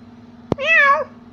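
A cat gives one clear, drawn-out meow lasting about half a second, close and fairly loud, right after a short sharp tap, with quiet hum in the background.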